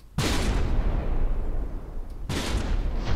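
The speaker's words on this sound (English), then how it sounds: "And we got shells hitting the right place for once." Heavy cannon shells fire from warships in the naval combat game From the Depths, two sustained roaring blasts with long rumbling tails, close and loud.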